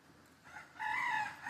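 Chickens, Americanas and bantams kept in a kennel, give a faint, distant crow-like call that rises and holds briefly.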